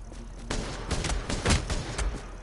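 A turret firing in The Division, a cluster of heavy shots in quick succession, fairly loud against a steady game background hum.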